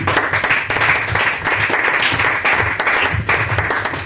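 A church congregation applauds, dense and steady hand clapping that fills the room for several seconds with a few faint voices mixed in.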